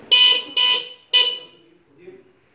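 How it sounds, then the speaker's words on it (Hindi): Three short, loud e-rickshaw horn honks in quick succession, close by, followed by a faint murmur of voices. "ये बज रहा है हॉर्न"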